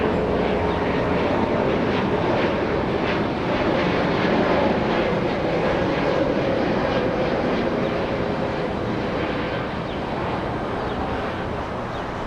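A JetBlue airliner in special Inspiring Humanity livery arriving at Los Angeles International Airport, a sustained broadband engine roar at moderate distance with wind buffeting, steady over the whole stretch and easing slightly toward the end.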